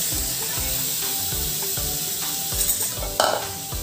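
Cooked mutton gets stirred into sizzling masala in a hot pan, with a steady frying hiss and rhythmic scraping strokes of a spoon, close up.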